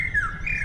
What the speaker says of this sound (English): Birds are a little surprising.